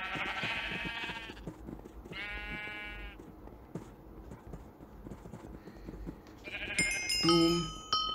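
Sheep in the Minecraft video game bleat in a few wavering calls, with game effect sounds and a bright chime near the end.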